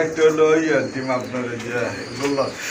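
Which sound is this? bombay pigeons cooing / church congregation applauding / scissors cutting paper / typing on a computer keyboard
bombay pigeons cooing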